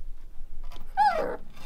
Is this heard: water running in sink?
no